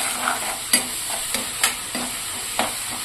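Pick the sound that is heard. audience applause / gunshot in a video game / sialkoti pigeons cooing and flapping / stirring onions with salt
stirring onions with salt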